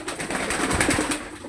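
Pigeons kept in a coop coo softly in a short, steady murmur, close by and without talk.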